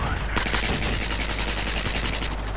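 A gun firing on full auto in Battlefield 4, a fast continuous stream of evenly spaced shots that kicks in after a brief lead-in and stays loud and steady throughout.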